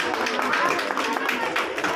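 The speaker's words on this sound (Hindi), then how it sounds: "एक बार ताली बजाएंगे।" An audience clapping at a primary school annual function in Varanasi, a dense patter of many hands mixed with someone speaking over a loudspeaker.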